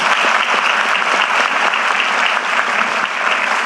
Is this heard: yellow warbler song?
no